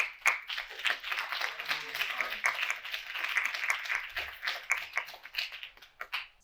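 Applause from an audience for Bhopal survivors at a campaign event, a continuous patter of many hands clapping at moderate distance, fairly quiet, tapering near the end.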